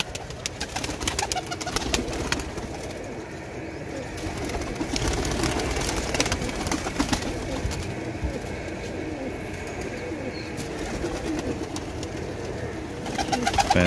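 Flying (parwazi) pigeons coo steadily close by, a soft continuous murmur of throaty calls with some fluttering and rustling in the background.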